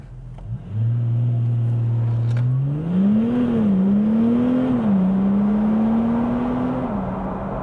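A tuned Audi A5 3.0 TDI diesel with about 507 bhp, in sport mode with traction control off on a damp road, accelerates hard to 60 mph, its engine drone climbing loud and steady through gear changes, heard from inside.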